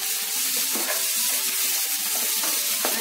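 Chopped onions fry in hot oil for a Tamil vada curry, giving a steady close sizzle and crackle throughout, with faint stirring clinks and no talk.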